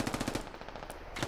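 Rapid automatic machine gun fire in a video game, a fast string of sharp, evenly spaced shots that briefly pauses and then resumes, loud and close with no voices.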